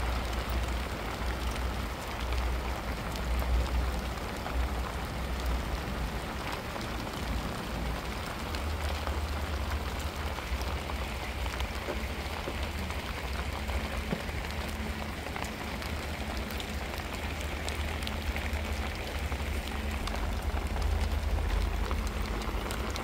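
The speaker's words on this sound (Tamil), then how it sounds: "மழை நல்லா பெஞ்சிட்டு பாருங்கள், எப்படி நலையிருந்து பாருங்கள், நல்ல மழைங்க." Heavy daytime rain pours down steadily, a dense, continuous hiss of drops on surfaces that stays loud and even throughout with no voices over it.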